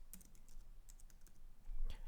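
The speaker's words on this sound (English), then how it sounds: "right now on the keyboard, okay, to enter Bob Marley" Quiet typing on a computer keyboard while entering text into a program prompt: a scatter of light, irregular key clicks, faint and close, with a slightly louder cluster of keystrokes near the end.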